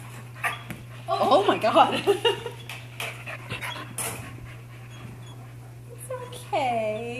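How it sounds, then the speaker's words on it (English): A sleeping dog barks in muffled bursts, whimpers and pants, loud and close over a steady low hum, while a person speaks briefly in shock. "This is new, the barking in the sleep."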